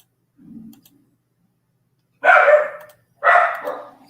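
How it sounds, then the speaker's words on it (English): Dogs bark in a house: a faint low woof at first, then two loud, close barks a second apart. "Sorry about the dogs."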